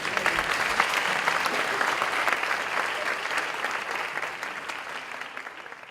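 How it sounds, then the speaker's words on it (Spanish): Audience applause at an international environmental prosecutors' summit panel, a steady dense wash of clapping that holds strong for several seconds and then tapers slightly, with no speech over it. "un aplauso, por favor."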